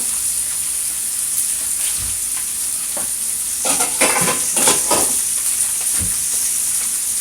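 Steady loud sizzling of onion rings frying in a frying pan, with a few scraping stirs and clinks of utensils partway through.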